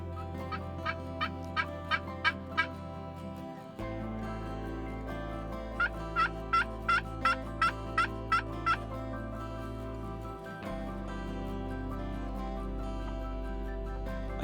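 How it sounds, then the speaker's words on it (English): Wild turkeys gobble far off, two bouts of quick rattling gobbles, each a rapid run of calls, over a steady background, with no talking. "There were a fair amount of gobbles, but they were all in the distance"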